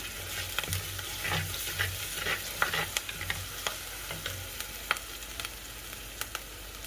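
Fresh curry leaves fry with onions in a pan, giving a soft steady sizzle with spatula scrapes and small crackles close by and no speech.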